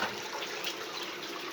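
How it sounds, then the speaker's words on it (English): A bucket of sticky clay and water being stirred by hand, making a steady close-up sloshing, watery churn that runs without pause and with no talk. "I have to stir this bucket like constantly, otherwise it just completely packs again"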